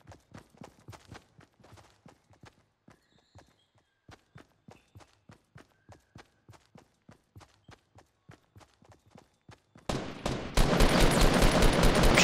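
Gunfire in Fortnite: evenly spaced single shots ring out one after another in a steady rhythm, then a loud, dense roar of sustained firing or an explosion takes over near the end.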